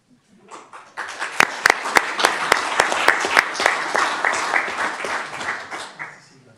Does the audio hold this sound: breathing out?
no